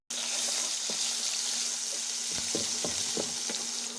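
Chopped onion and garlic paste fry in hot oil in a pan, a steady close hiss with a few scattered taps and scrapes of a spoon, no one talking.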